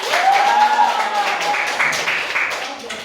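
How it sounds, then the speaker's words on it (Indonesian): Brief classroom applause from a fourth-grade class, scattered clapping that fades under a voice speaking at the start. "tepuk tangan"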